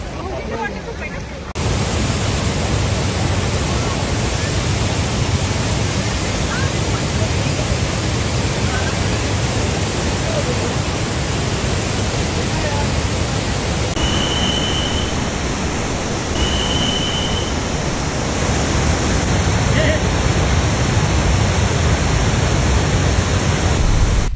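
Waterfall at Bhandardara in the monsoon hills, a loud, steady broadband roar of falling water that fills the whole stretch without a break and sounds close by.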